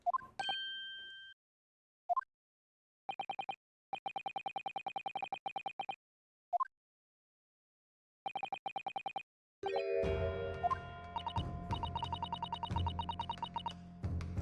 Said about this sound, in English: the music box is broken. It's not music, it's Morse code.